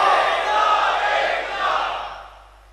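A crowd at an Ahle Hadees conference in Sialkot shouts a slogan back in unison, a loud collective roar that swells briefly and then fades out.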